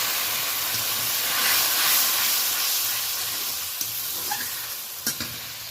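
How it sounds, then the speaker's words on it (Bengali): Hot water poured into spices frying in a pan sets off a loud, close, continuous hiss and sizzle that swells and then eases, with a few light utensil taps near the end and no talk. "একটুখানি গরম জল দিয়ে দিলাম।"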